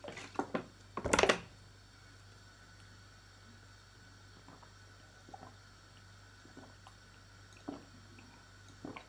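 A drink is poured into a glass in a home kitchen: a brief, close splash of liquid near the start, then a quiet stretch with only a few faint small knocks and drips.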